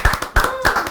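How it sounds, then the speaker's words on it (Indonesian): Guests clapping hands on a talk show, a few brisk bursts of close claps in quick uneven groups, loud and near with no talk over them. "Boleh tepuk tangannya."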